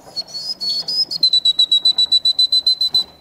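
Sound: human whistling imitation of blue tit song

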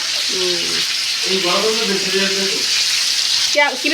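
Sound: hilsa fish being fried (bhuna) with onion and spices

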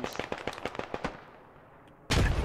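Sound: explosions and gunfire in a first-person shooter video game

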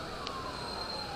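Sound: fire truck sirens at a mall fire

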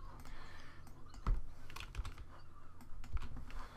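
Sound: pressing the A key on a computer keyboard

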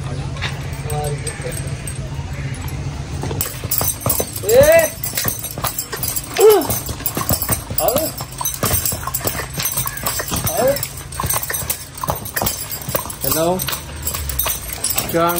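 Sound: horse hooves clip-clopping

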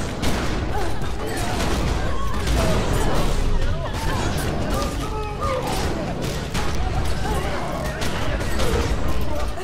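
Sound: gunfire in the video game The Secret World

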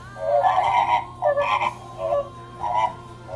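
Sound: flamingo call

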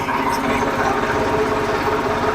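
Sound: tractor engine during cow farm cleaning

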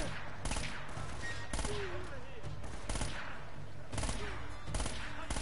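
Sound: Uzi submachine gun fire in Uncharted: Drake's Fortune video game

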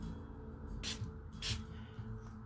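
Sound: spray bottle spraying water onto watercolour paper

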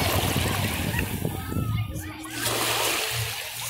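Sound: washing a seashell in seawater at the beach

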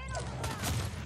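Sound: Belica bomb ability from the video game Predecessor

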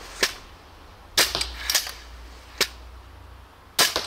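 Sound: shooting a Greek belly bow

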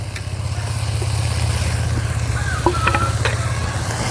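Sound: stirring bitter greens into fish curry

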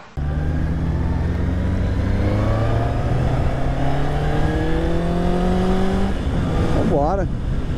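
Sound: Honda CB650R four-cylinder motorcycle engine revving

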